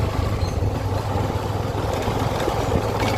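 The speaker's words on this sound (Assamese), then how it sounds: "গাঁৱৰ এই খলাবমা ৰাস্তাটোত বাইক চলোৱা মজা এটাই কিবা এটা বেলেগ" A motorbike rides along a rough village road, its engine holding a steady, close drone with a low rumble and constant road noise throughout.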